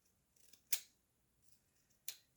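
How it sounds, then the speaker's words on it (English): Old shears snipping at fabric for a scrappy junk journal: two sharp, brief cuts a little over a second apart, each preceded by faint blade rustling, close and clear against a quiet room. "my shears are old and I'm not sure if they will cut through the material"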